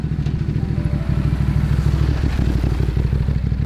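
A Ducati DesertX rally motorcycle engine on desert terrain during the NORRA Mexican 1000 Rally, a loud, steady, throbbing idle with a rapid pulsing beat that runs close-up throughout before cutting off at the end.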